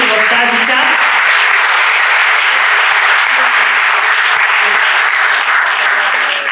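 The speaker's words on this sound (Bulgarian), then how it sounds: "заслужава вашите аплодисменти" Sustained, loud applause fills a hall at an anti-drug prevention opening event in Veliko Tarnovo, a dense wash of clapping with voices faintly underneath.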